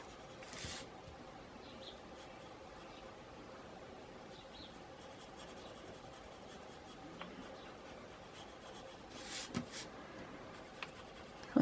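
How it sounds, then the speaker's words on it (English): A blue watercolor pencil scratches softly across paper in faint, intermittent strokes within a quiet room, with a few brief louder taps and rustles. "I'm going to put some blue watercolor pencil"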